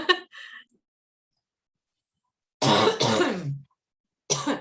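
Silence broken by a few rough coughs and harsh throat clearing, in short separate bursts close to the microphone.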